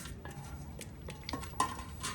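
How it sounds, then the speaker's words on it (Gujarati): Chopped onions go into a pot for a chicken biryani made without rice, with stirring and clinks of utensils against the vessel, a brief louder scrape near the end, all fairly quiet and without voices. "સૌથી પહેલા આપણે નાખી દેવાની છે ડુંગળી."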